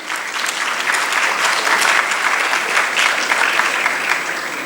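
Steady, enthusiastic clapping from a sizable audience at a tax conference session, loud and sustained throughout with no voices standing out.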